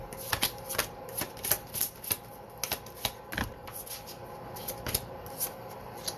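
Tarot reading cards shuffled by hand in a quick series of crisp riffling snaps and flutters, close and fairly quiet, with no talking over them.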